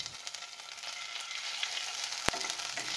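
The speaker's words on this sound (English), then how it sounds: "Now we shall heat, preferably mustard or any other oil, in a pan and put the garlic paste into it." Garlic paste fries in mustard oil in a pan, giving a close, steady sizzle and crackle that stays even throughout, with a sharp pop near the end and no talking.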